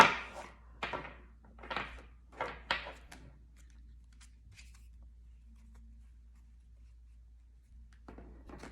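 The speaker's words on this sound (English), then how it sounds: "I'll do one more shuffle." Oversized tarot cards being shuffled by hand, several quick riffling bursts close by in the first few seconds, then near quiet before another brief rustle at the end.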